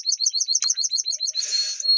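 Gouldian finches and canaries chirp in a breeding aviary, a rapid, regular run of bright, close chirps followed by a denser burst of twittering.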